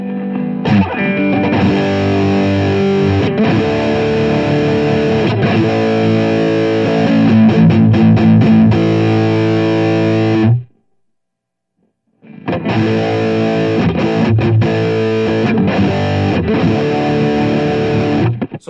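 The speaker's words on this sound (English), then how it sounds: "when we finally kick in this distortion, it'll get really special sounding" An electric guitar with Les Paul humbucker pickups played through a distortion pedal, thick fuzzy sustained chords ringing loudly, cutting to silence for over a second before another strummed passage, no voices.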